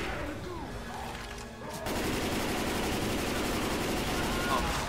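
Gunfire in Left 4 Dead 2 on the Swamp Fever plantation level, a dense continuous fusillade that breaks out partway through and keeps going loudly, with game sounds before it.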